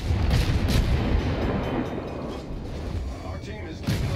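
Naval gunfire in World of Warships with premium gunboats: heavy rumbling booms roll continuously, with sharper blasts near the start and again at the end.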